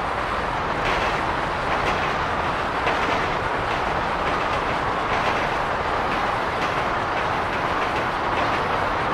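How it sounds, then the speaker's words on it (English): A train rolls past in Grand Theft Auto V, a loud, steady rumble with rhythmic clacking of wheels over the rails, sustained and close for the whole stretch without talk. "Now we're gonna have to wait for the train to go by."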